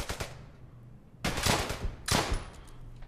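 Gunfire in the WWII shooter game Brothers in Arms: Hell's Highway: a couple of quick shots open the clip, then two loud bursts of gunfire, each ringing out for about half a second, over a low steady game hum.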